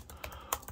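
Quick keystrokes on a Lenovo ThinkPad T480 laptop keyboard, several soft, close clicks in an uneven rhythm with one sharper tap standing out.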